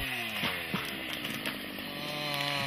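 A chainsaw cuts through timber during forestry harvesting, its engine holding a steady, buzzing drone with small rises in pitch as the chain bites into the wood, loud and close, with no speech.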